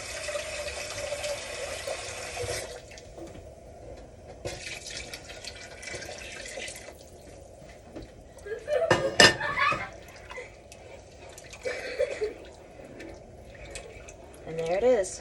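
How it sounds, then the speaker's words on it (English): Water pours and splashes into a pot of gumbo in a home kitchen, with a steady running stream that comes and goes between clinks and quieter gaps. "I'm going to add more water."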